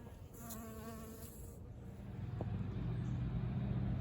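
Bees buzz faintly and intermittently nearby as a passing vehicle rumbles up in the background, growing louder toward the end.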